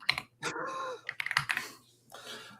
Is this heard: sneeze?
no